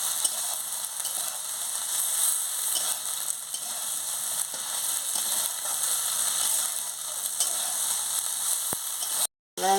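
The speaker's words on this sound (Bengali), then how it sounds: "মশলার সঙ্গে সয়াবিনটাও দিয়ে দিচ্ছি আলুও দিয়ে দিচ্ছি দিয়ে ভালো করে কুচিয়ে নিচ্ছি" Soybean chunks and potatoes fry with spices in a pan, making a continuous close hiss of sizzling oil with faint stirring scrapes and a brief cutout near the end.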